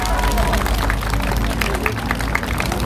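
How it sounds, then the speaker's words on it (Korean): A crowd at an outdoor memorial and protest rally claps and applauds in a steady, dense wash of hand claps that continues throughout without pause. "우리 큰 박수로 응원 한번 부탁드리겠습니다"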